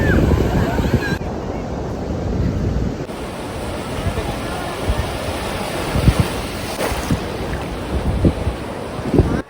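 Sea waves at Puri beach wash in over the sand, a broad close surf hiss with wind buffeting the microphone and a few bursts of splashing.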